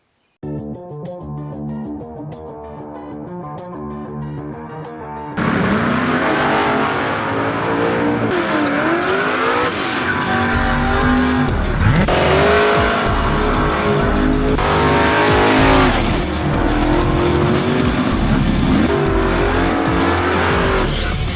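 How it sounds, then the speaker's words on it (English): Bracket race cars at a drag strip, loud roaring engines revving and accelerating hard with rising and falling pitch sweeps, following a few seconds of quieter background sound, close and dominant with no speech. "There's a lot of bracket racing going on, and check it out, see if your car's in here."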